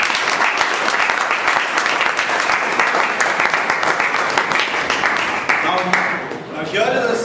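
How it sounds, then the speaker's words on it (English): Audience applause at a speaking event, dense steady clapping from a large crowd filling the whole stretch, loud and close, tapering slightly near the end. "please give them a huge round of applause."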